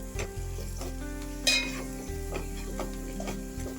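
Spices such as chilli powder and coriander powder frying and being stirred in a pan for tomato sharva, with a steady close sizzle, scraping stirs and a brief louder clatter near the middle.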